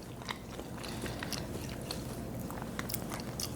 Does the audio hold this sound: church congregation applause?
no